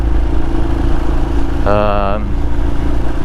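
A Royal Enfield motorcycle engine splutters at low revs outdoors, a steady rough idle beneath a brief louder rising burst of revving in the middle, with no talk over it.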